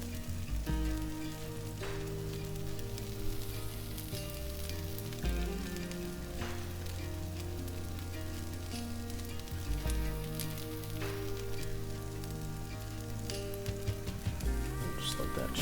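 Birria meat sizzles steadily on a hot griddle, a continuous close frying crackle, with background music and brief talk on top.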